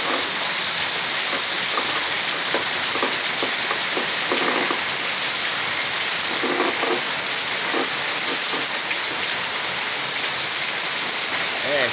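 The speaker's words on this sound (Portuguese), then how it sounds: "Chuva forte, previsão de muita chuva, alagamento" Steady, dense rainfall pours down in Pernambuco, Brazil, a loud continuous hiss with scattered heavier drips and splashes standing out now and then.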